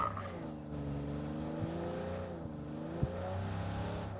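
A sports car in a video game drives nearby, a steady engine drone shifting in pitch as it moves, with a brief sharp knock near the end.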